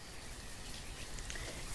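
Soft, steady patter of rain in the video game Banished, faint and continuous, with no voices.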